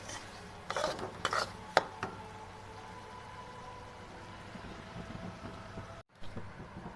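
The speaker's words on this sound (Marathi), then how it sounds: "तूप चांगलं सोडत नाही ना तवर चांगलं हलवून घ्यायचं" Semolina halwa (sheera) being stirred in ghee until it turns deep red, with a spoon scraping and knocking against the pan in a few clustered clatters, then a steady low background hiss.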